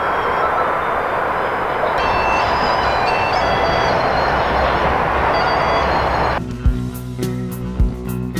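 Shanghai metro train running on the line near North Jiangyang Road, a steady loud rumble of rolling wheels and carriage noise filling the whole stretch, with a shift to quieter clanking and a couple of knocks near the end.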